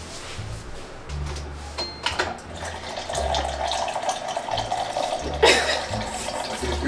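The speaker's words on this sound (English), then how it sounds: "Spring water?" Spring water runs steadily along a mountain hiking trail, making a continuous splashing trickle with faint low rumbles and brief louder surges, heard alone without talking.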